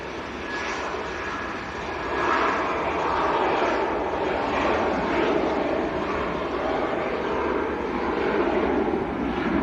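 An Airbus A350 airliner at Manchester airport sends out a loud, steady, broad jet-engine roar that swells slightly and holds for the whole stretch, with no clear talk.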